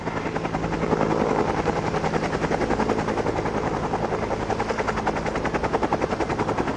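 A helicopter flies over Waikiki, Oahu, its rotor producing a steady, fast, loud thwopping pulse with an engine drone beneath, holding fairly close and constant throughout with no voices.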